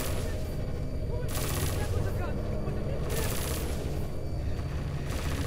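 Sustained gunfire in the PC game Deus Ex: Mankind Divided, a dense, continuous barrage of rapid shots and booms running throughout, with bursts swelling and easing over the layered battle noise.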